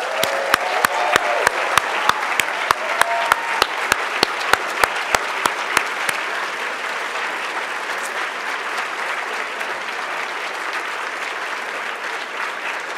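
An audience at the 2012 National Book Award reading at The New School applauds warmly, sharp claps rising above a dense, sustained wash of clapping that carries on after the individual claps thin out.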